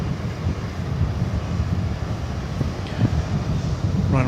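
A jet airliner turns onto runway 18 left at DFW Airport at night, its engines giving a steady, moderately loud rumble and whine mixed with wind buffeting on the microphone, no voices.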